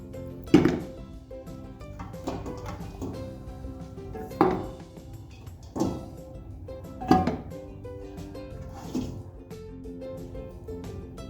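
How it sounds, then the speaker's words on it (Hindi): Pieces of beef shank drop one by one into a pressure cooker, giving about six separate heavy thunks spaced a second or two apart with faint kitchen clatter in between. "बोंगे सारी मैंने प्रेशर कुकर में डाल दी हैं।"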